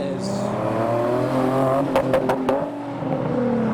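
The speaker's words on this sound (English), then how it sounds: "And a Nismo 370Z." A Nissan Nismo 370Z drives past at a Japanese car meet in Reading, its engine note rising and holding for a few seconds over other traffic, with a few sharp pops partway through.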